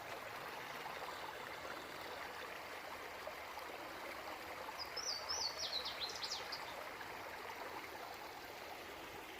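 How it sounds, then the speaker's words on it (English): A flowing stream beside a shelter on the Appalachian Trail gives a steady, soft broadband rush of running water, with a brief bird chirping faintly over it midway through. "Nice flowing stream to get some good water."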